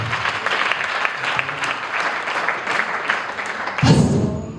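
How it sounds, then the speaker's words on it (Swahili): Church audience applauding at a Tanzanian celebration service, dense steady clapping filling the hall throughout, with a louder burst near the end. "Haya tumpatie Yesu makofi."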